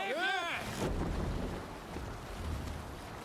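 Viking longship setting sail in Assassin's Creed Valhalla: a low rumble of wind and water under the hull after a brief, rising whoosh at the start, with soft creaks over the swell.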